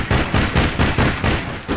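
Shotgun blasts ring out in the online shooter game All Points Bulletin, a rapid, even series of about eight loud shots in quick succession, with no talk over them.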